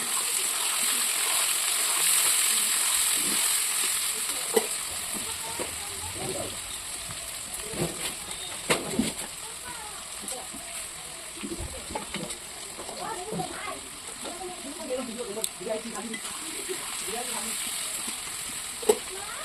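Onions frying in hot oil in a home kitchen give a steady sizzle with scattered spatters and stirring, while a voice talks over it.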